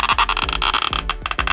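The swivel head of a wireless charging car phone mount creaks as it is adjusted, giving a dense, close, continuous grinding creak with repeated ratcheting pulses for well over a second.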